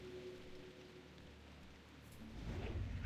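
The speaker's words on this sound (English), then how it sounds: "Just started raining out of nowhere." Rain from a sudden heavy storm in World of Warcraft Classic hisses steadily and faintly, and a low rumble swells near the end.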